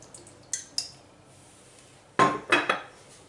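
A cooking pot is handled and set down on a stovetop, giving a few sharp metallic clanks and knocks, two light taps early and a louder cluster of clatters near the end, with no talk.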